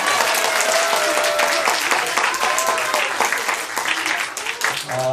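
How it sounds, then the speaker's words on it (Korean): A church audience at a Christmas thanksgiving performance applauds the youth group with a loud, continuous wash of clapping that thins toward the end, while voices call out faintly underneath. "다시 한번 고생해준 우리 청년부에게 박수 한번 부탁드리겠습니다."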